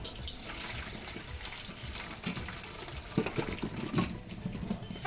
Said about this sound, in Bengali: জল দিচ্ছ কেন ছাড়াতে সুবিধা হবে